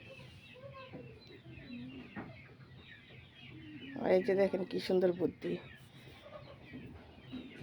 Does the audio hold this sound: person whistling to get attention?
no